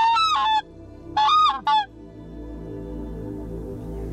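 A goose hunting call imitates goose honks: three sharp, loud honks in two quick bursts, followed by a low, steady background rumble.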